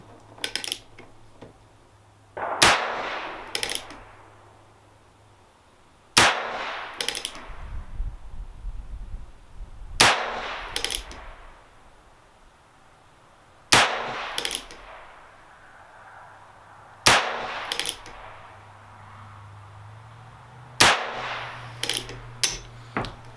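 Six shots from a Heritage Rough Rider revolver with a 16-inch barrel, fired from a rest at an outdoor range, ring out as sharp loud cracks spaced a few seconds apart, some followed by quick echoes or clicks, with no talking.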